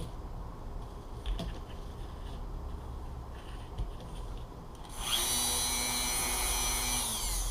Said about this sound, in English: you want to just grind down this little bit extra lip